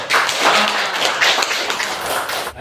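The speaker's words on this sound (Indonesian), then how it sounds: "Tepuk tangan dulu." Classroom applause from a group of students, a dense, steady patter of many hands clapping up close for a couple of seconds, with a faint voice underneath.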